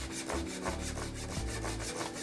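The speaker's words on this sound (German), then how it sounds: "Für die richtige Höhe verwenden Sie ein Reststück als Unterlage und eine scharfe Säge." A sharp hand saw cuts through a wooden door frame with the blade resting on an offcut, giving quick, even back-and-forth rasping strokes close up with nothing else heard.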